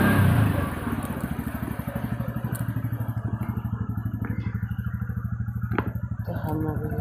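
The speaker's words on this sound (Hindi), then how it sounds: "हम मोड़ने जा रहे बाइक।" A motorcycle putters along nearby with a steady, rapid engine thump as the rider turns the bike around, loud at first and then settling into an even beat, with a voice speaking briefly over it.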